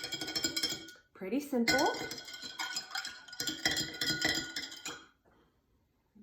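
A spoon stirs electrolyte powder into a drink in a glass, giving quick clinking taps against the sides over a few seconds, with someone talking briefly during the stirring.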